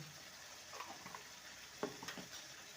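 Vegetarian jackfruit curry sizzles softly in a pan with salt and sugar added, a low steady frying hiss broken by a few quiet scrapes and stirs of a spoon.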